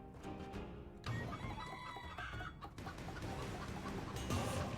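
Clucking of a chicken from a video game transformation, a steady run of fowl clucks and cackles mixed into busy game sounds and music throughout.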